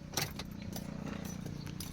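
Keys jangle faintly and briefly as the ignition of a Ford Ranger 2.2 is switched off, a few light metallic clinks over a quiet, low background hum.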